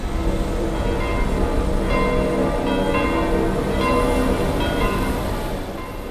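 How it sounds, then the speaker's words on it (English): Church bells toll across Rome, a dense overlapping peal of ringing strikes that carries steadily from start to end without any voices. "As bells tolled across the Eternal City"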